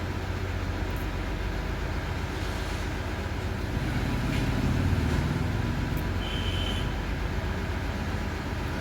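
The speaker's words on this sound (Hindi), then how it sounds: "ट्रक आकर यहीं खड़ी हो गई है," A truck stands nearby with its engine running, a steady low rumble under a busy roadside background, fairly loud throughout with a few faint higher tones and no clear talking.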